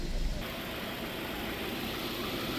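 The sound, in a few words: 2018 Subaru Impreza engine idling smoothly after injector service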